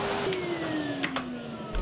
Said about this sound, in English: I'm getting a big hoover. I think this will help.